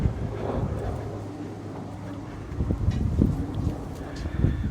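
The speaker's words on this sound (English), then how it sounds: "It's a bit windy" Wind gusting through a garden at the end of the growing season, a steady broadband rush that swells and buffets the microphone in uneven surges, with no clear voices.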